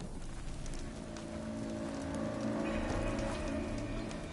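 Rain falling in the video game Horizon Forbidden West, a soft steady patter of drops on surfaces with a low ambient game rumble beneath, fairly quiet, no voices.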